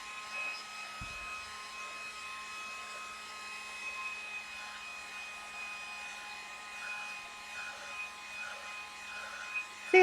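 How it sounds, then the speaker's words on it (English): A heat gun blowing hot air while painting a lamp shade, a steady whirring blower hum with a faint tonal whine that holds level throughout, with a brief low knock near the start. "I'll stall with the heat gun."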